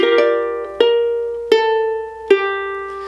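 Plucked ukulele chords from a tutorial arrangement of a song ring out in a steady beat, four bright strums each sustaining into the next, close and clear with no voices.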